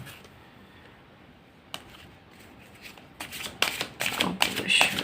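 Tarot cards shuffled and drawn by hand during a Hindi reading, soft at first, then rapid riffling bursts growing louder near the end, with talk over part of it.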